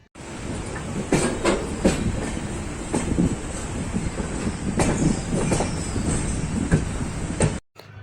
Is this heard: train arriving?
yes